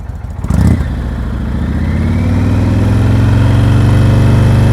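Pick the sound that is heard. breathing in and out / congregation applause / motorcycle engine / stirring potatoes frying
motorcycle engine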